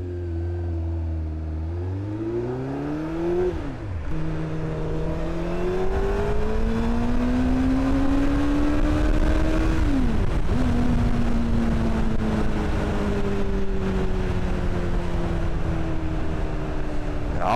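Moped engine idling and revving on a motovlog ride, steady close engine drone with rising and falling pitch sweeps, drops near the start, four and ten seconds, running continuously without talk.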